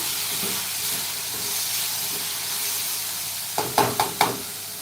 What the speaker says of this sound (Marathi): बटाटा चांगला परतून घेऊया तेलामध्ये